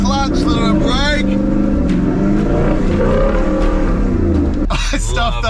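A 4WD engine revs loud and close on an off-road track at Scenic Rim, with steady droning power and shifting pitch as clutch and brake are worked, while someone talks over it throughout.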